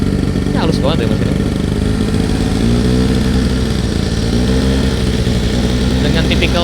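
A smooth-running Yamaha Nouvo Mio scooter engine on a city ride, its steady mid-pitched hum continuous and close throughout, with a person talking over it.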